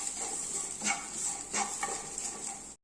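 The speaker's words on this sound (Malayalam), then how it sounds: "അതിന് ശേഷം ഇതിൻ്റെ പച്ചമണം മാറുന്നിടം വരെ നമുക്കൊന്ന് ഇളക്കി കൊടുക്കാം" Chili powder is stirred in a cooking pan for drumstick-leaf rice, with a steady sizzle under repeated scraping strokes of a utensil against the pan, close and without talk.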